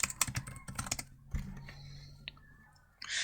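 A quick burst of computer keyboard typing, several close clicks in the first second, followed by quieter clicks and faint background hum.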